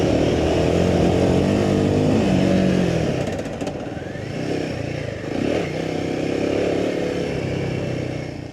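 A Royal Enfield Himalayan 450 dual sport adventure motorcycle being ridden, its engine droning steadily and loudly with shifts in revs, wind rush and some clatter over rough terrain.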